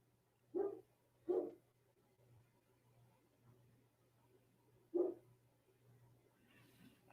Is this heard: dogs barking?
yes